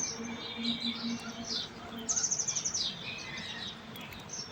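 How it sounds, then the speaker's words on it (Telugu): Birds chirp on a calm early morning, several small calls and a quick rapid trill rising above a soft, steady outdoor hush, fairly distant and gentle. "భలే సౌండ్స్ వస్తూ బర్డ్స్ చాలా బాగా అనిపించింది"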